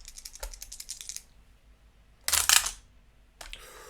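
Dice rattling and clattering across a table during a Dice Masters tabletop game, one short burst early on, a louder clustered roll in the middle, and a brief final clatter near the end.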